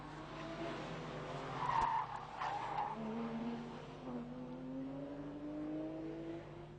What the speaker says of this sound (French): Travers de la 997 de Guillaume Boucher.